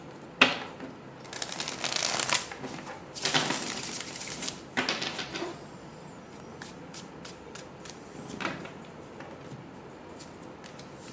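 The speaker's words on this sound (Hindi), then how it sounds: "I will give it another shuffle." Tarot cards being shuffled by hand in a series of quick riffling and slapping bursts, loudest in the first half and then thinning to lighter taps, close and with no talking.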